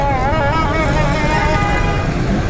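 Heavy evening street traffic at Korangi Crossing in Karachi near a busy Juma Bazar, with a car horn tooting repeatedly over a dense, loud, continuous rumble of engines.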